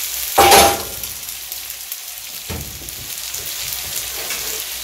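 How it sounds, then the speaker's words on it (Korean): A potato and cheese pancake fries in an oiled pan, giving a steady hiss of sizzling with a louder burst of crackle near the start, then a low continuous fry. "그럼 한번 팬에 구워보겠습니다"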